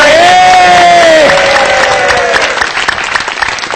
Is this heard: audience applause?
yes